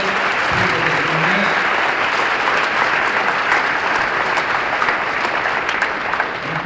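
Dense, sustained applause from a large audience at a closing speech, loud and continuous throughout with no pauses, a faint voice briefly audible early on.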